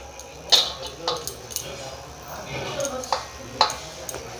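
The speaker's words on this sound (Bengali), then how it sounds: "আমি প্রত্যেকবারের মতো লেগ পিসগুলোকে চিড়ে নিচ্ছি।" A kitchen knife scores raw chicken leg pieces, giving sharp metallic clinks and taps against a plate at irregular intervals, close by, while someone talks over them.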